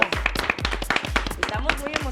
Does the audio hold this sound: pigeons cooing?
no